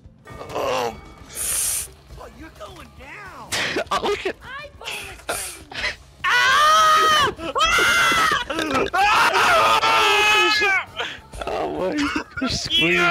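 A person in the game Lethal Redemption screams loudly and repeatedly, in long, strained, wavering bursts mixed with groans and laughter. Other voices and clanking game noises weave through the loud, busy stretch.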